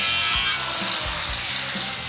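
A hand tool scores a line into metal clamped in a vise while building a classic Camaro, making several quick rhythmic scraping strokes, close and fairly loud.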